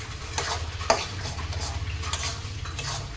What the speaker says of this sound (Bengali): দিয়ে একবার ভেজে চেড়ে নেব